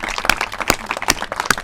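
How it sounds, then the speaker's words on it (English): An audience applauds at a community center reopening ceremony, with a short burst of sharp, uneven claps heard up close. "Give him a round of applause again."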